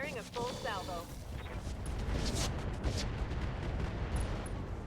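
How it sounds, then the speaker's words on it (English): A mech fires a full weapon salvo in RogueTech, a dense run of booming shots and blasts lasting several seconds at moderate loudness, with voice chatter briefly over the start. "Firing a full salvo"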